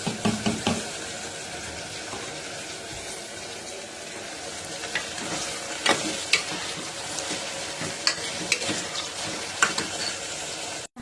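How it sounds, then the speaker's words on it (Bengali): Chopped tomatoes tipped into a hot pan for chilli chicken, giving a steady loud sizzle with scraping stirs and bubbling, no talking. "এবার আমি কেটে রাখা টমেটোগুলো এর ভেতরে দিয়ে দিচ্ছি।"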